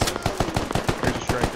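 Rapid automatic gunfire in the video game Squad, a burst of sharp, evenly spaced shots at close range, loud and continuous over a second and a half.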